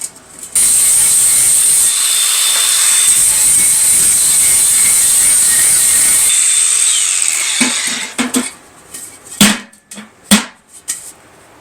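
A drill boring small 1/8 inch pilot holes in a thin metal stove body, heard as a steady loud whirring grind lasting several seconds, then stopping, followed by a few sharp metallic clanks and knocks.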